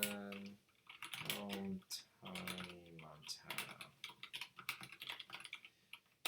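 Quick, irregular clicks of typing on a computer keyboard run throughout, close up, beneath someone talking.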